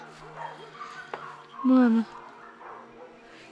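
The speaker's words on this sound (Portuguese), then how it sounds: "O cachorro tá latindo igual doido." A dog at a junkyard gives a short yelping bark and whimper, mid-distance, while people talk over it.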